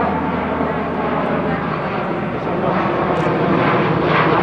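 A loud, steady drone of an airplane engine passing overhead at the Hellenic Air Force airshow at Tanagra, Greece, filling the whole stretch without letting up.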